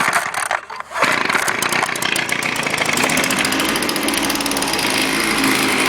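Small engine on a cold start with an easy-pull recoil starter, a few brief pull noises giving way to a steady, loud, buzzing idle that runs close and unbroken after about one second.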